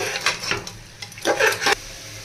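A spoon scrapes and stirs vegetables and spices in a pan for veg pulao, giving short irregular scraping strokes with a faint sizzle underneath, close by.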